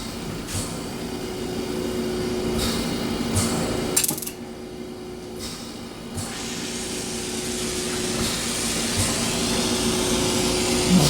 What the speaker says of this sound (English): And then I'm going to turn on my torch.